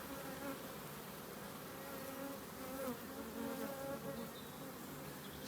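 Honey bees from a Welsh black colony on ten frames buzz at an open hive, a steady, dense droning hum with individual bees flying close by, fairly faint and without talk.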